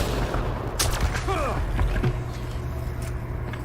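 Weapon shots in Mass Effect Andromeda ring out as a few sharp, booming reports, scattered over a steady background rumble.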